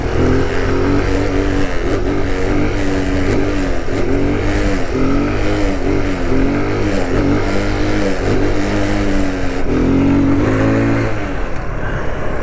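Kawasaki Z125 motorcycle with stock exhaust revving steadily through a wheelie, a loud, continuous mid-pitched engine drone with rising and falling revs throughout, close by and with no talking.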